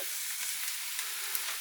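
Onion and garlic frying in a pan for homemade smoky barbecue sauce, with a close, steady, bright hiss of sizzling oil and faint stirring scrapes. No voices are heard.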